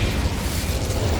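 In the video game Hogwarts Legacy, a cast Incendio fire spell erupts as a loud, dense whooshing burst of flame with a deep rumbling low end, sustained and unbroken across a short moment.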